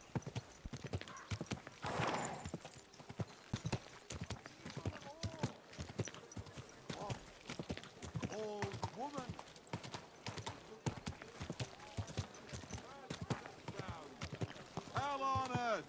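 Horse hooves clop steadily over the ground alongside a brief whinny in the video game Kingdom Come: Deliverance, with someone talking at intervals over the footsteps.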